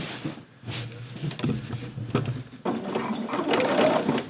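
A sewing machine stitches a 1950s vintage-style coat with welt pockets, its motor whirring and needle chattering in short runs, then a longer steady stretch, close by.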